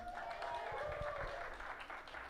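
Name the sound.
audience applause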